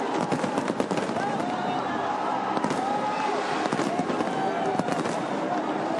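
Fireworks crackle and pop over a cricket ground during a victory celebration, a dense rapid stream of bursts mixed with crowd noise, with a commentator talking over it throughout.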